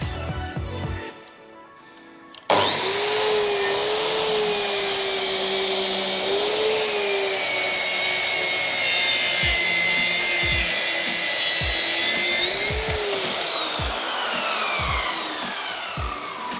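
A cheap Ozito power tool cuts through a camper panel with a steady, loud whine that holds for the whole stretch after a short start, close by, with a few knocks and bumps underneath and no voices.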